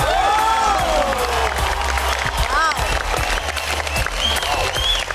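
Loud studio audience applause and cheering for contestants on the Marathi reality show Bigg Boss, a dense continuous roar of clapping with whistles rising over it, lasting throughout.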